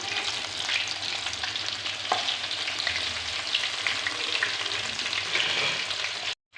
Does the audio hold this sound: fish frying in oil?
yes